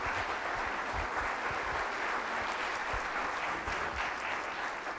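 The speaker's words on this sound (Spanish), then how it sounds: "Un aplauso, por favor, para ella." An audience applauds a visiting professor at a constitutional law lecture, a steady, even wash of clapping heard from a distance, faint and unbroken throughout.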